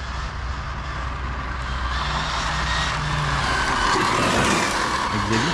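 A Super Baja RC car on an SBR 2.0 chassis drives past at speed, its engine whining steadily throughout with broadband road and tire noise, loudest toward the end where a skid may occur.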